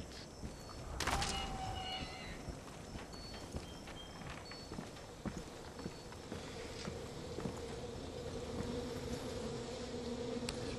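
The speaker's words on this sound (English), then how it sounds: "Bees." Bees in the video game Far Cry 5 hum with a steady, fairly quiet drone that runs through the whole stretch, with a few brief clicks on top.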